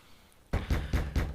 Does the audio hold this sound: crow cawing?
no